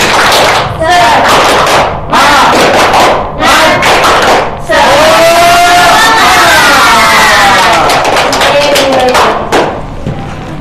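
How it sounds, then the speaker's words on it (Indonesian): Classroom children doing a rhythmic clapping chant during an elementary teaching session, loud bursts of claps in patterned groups with several short breaks, mixed with shouted chanting voices. "Kita tepuk semangat terlebih dahulu agar tambah semangat."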